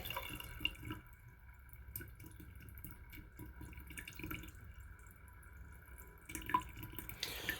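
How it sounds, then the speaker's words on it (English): A steady, gentle trickle of cold tap water runs from a faucet throughout, with occasional soft drips and clinks, fairly quiet and close, in a house with noisy water pipes. "so we'll open the cold side of our faucet."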